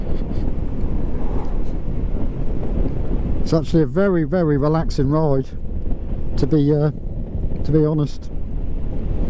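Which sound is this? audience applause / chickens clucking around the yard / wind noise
wind noise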